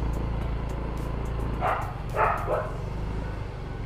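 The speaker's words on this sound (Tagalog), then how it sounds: "Nakakatakot naman yung aso." A few barks from a dog at moderate distance, three short bursts over a steady low rumble of background noise.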